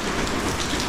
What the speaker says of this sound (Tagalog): Ulan pa rin. Dala ng bagyong Enteng.